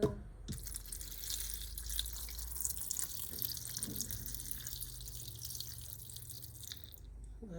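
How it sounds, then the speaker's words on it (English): Water poured from a tap into a pot of low-carb chicken soup on a medium-heat stove, a steady rushing stream with dripping, running continuously at close range without talk. "Just gonna add more water."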